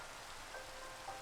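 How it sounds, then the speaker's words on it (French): Rain falls steadily in the Minecraft video game, a constant soft hiss of drops with no talk over it. "Par contre, là, il pleut."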